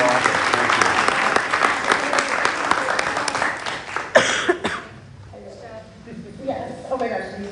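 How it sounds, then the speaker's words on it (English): Audience applause for school board candidates at a candidate forum, a loud sustained clapping with a cough or two that fades after about five seconds into quieter room noise and faint talk. "let's give everybody a big round of applause just for running"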